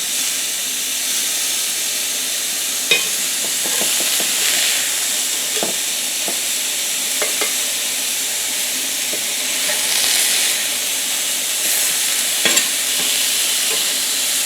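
Burgers sizzle steadily in a hot pan, a continuous bright frying hiss with occasional crackles and pops from spitting fat, heard close with no talking.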